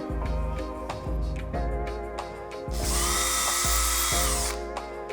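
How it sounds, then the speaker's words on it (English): A power drill boring into a wall whirs loudly and close, its motor pulsing in repeated bursts, with a harsher high-pitched grinding stretch in the middle. "So now it's time to drill."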